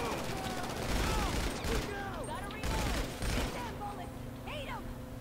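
Gunfire in the video game GTA V, rapid bursts of shots and fusillades from close by, arriving in clustered volleys with brief gaps, under game effects.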